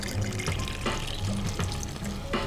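A cocktail, a Bakery Sour made with Absolut, pours steadily into a glass packed with ice, a continuous close liquid splash and trickle with faint clinks throughout.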